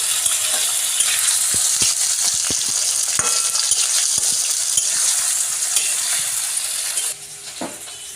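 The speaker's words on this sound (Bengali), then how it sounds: "এগুলো এবার ভালো করে ভাজা ভাজা হবে।" Chopped onion, garlic and chili sizzle steadily in hot oil in a pan, with a few scattered utensil clicks over the continuous frying hiss before it quiets near the end.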